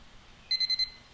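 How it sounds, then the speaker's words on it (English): An alarm sounds four rapid, even high-pitched beeps in a quick burst, clear and moderately loud over quiet room noise. "And the alarm."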